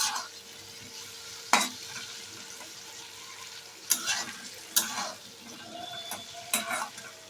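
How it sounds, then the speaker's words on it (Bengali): Okra and potato pieces frying in oil with salt and turmeric, a quiet, steady sizzle punctuated by a few sharp spatula scrapes and knocks against the pan, and no one talking. "এবার আমি ভালো করে এটাকে লাল করে ভেজে নেব।"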